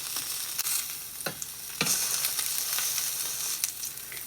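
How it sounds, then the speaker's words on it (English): A rainbow trout fillet sizzles in a hot pan while it is pressed down: a steady, bright hiss with a few sharp pops and crackles, close and alone, with no talking. "Listen to those sizzles."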